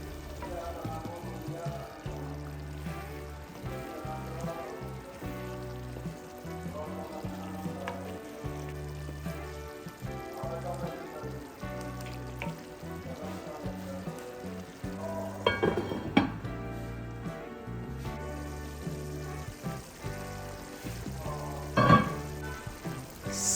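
Egusi soup with a little added water bubbles and sizzles steadily in a pot, a continuous soft cooking hiss with occasional clinks of utensils against the pot near the end.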